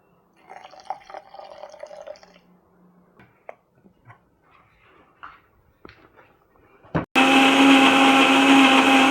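A Vidiem Tusker food processor grinds coconut with water: quiet clinks and handling noises first, then the motor kicks in abruptly with a loud, steady high-pitched whirring grind that continues to the end.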